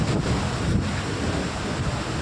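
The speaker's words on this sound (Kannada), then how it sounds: "ನೀರು ರಭಸ ಯಾವ ಥರ ಅಂದರೆ ಈ ಕಡೆ ತೋರಿಸ್ತಾಳೆ ನಿಮಗೆ" Water rushing hard through the gates of Sannakki dam, heard as a loud, steady, broadband roar that holds without pause throughout.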